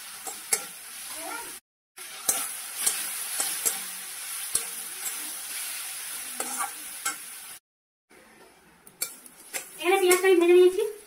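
Onions frying in a pan for a fish curry in a home kitchen, a steady sizzle with stirring, utensil clinks and pot clatter, growing louder near the end.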